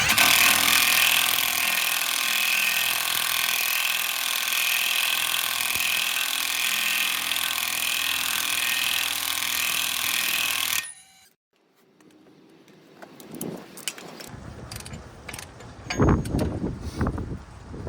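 An Alloyman 1/2 inch impact gun runs nonstop for about eleven seconds while threading a nut back down. It gives a loud, dense mechanical whir, then cuts off abruptly, followed by quieter clatter and handling knocks.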